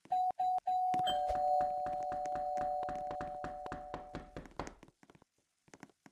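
In a Roblox Brookhaven house, a doorbell chimes several quick times, then a long run of firm knocks raps on the door, gradually fading, with a few scattered taps trailing off at the end.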